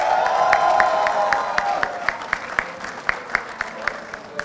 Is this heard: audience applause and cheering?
yes